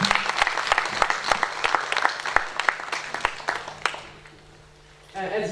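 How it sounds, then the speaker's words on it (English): Applause for moot court participants at a university research week, many hands clapping loudly with sharp distinct claps, thinning out and fading near the end before a brief burst of other sound. "Let's give all our mooters a massive round of applause."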